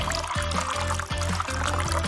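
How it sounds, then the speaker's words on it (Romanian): A small amount of water trickles and splashes continuously while poured, with a steady liquid hiss and low rhythmic thumps of music running beneath it. "O să torn puțină apă!"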